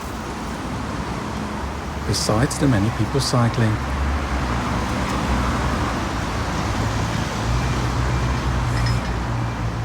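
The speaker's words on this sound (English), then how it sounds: "Unfortunately, there is still a lot of motor traffic in Copenhagen" Motor traffic hums steadily on Copenhagen roads as cars pass in a continuous wash of noise, with a voice speaking over it.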